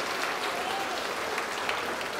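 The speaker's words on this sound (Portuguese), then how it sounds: "Vamos aplaudir bastante ao nome de Jesus." A church congregation claps together in a steady, even roar of applause, continuous and moderately distant, with no break across the moment.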